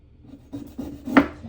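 A knife cuts into a black walnut hull with a short, close, dry scraping and rasping, ending in one sharper scrape.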